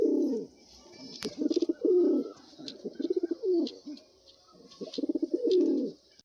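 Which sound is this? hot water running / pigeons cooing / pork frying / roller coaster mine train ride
pigeons cooing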